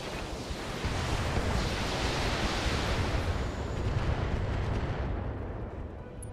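Heavy weapons fire in the mech combat game RogueTech, a dense, continuous roar of booming shots and blasts that stays loud for several seconds before easing off at the end, with no talking.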